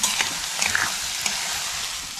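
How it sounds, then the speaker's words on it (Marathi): Onion frying in a pan over high gas heat as it softens for a jackfruit bhaji, a bright continuous sizzle with a few scraping stirs, close and fairly loud. "हे बघा आता आपल्याला ना गॅस जरा फास्ट करायचा, आणि हा कांदा आपल्याला जरा नरम करून घ्यायचा चांगला."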